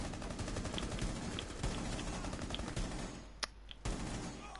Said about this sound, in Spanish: Joder, mira que soy mala con la ametralladora